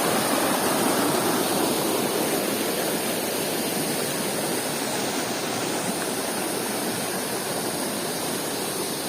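Curug Cipanas waterfall in Parongpong, Bandung, pouring steadily, a dense continuous broadband roar of rushing, misting water close by, with no voices.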